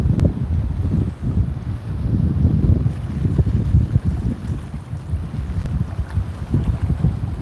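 Stormy water churning and washing against the shore in New York harbor during Tropical Storm Fay, a steady low roar with gusts of wind buffeting the microphone, no voices.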